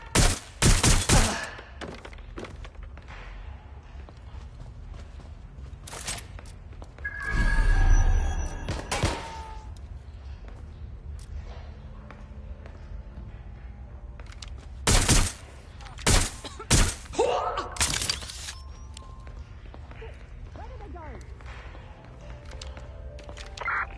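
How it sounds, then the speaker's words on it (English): Sharp bursts of gunfire in Watch Dogs: Legion in scattered volleys, with a rumbling explosion-like thud in the middle and quieter stretches between shots. "Gunfire!"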